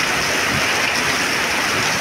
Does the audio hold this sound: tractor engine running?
no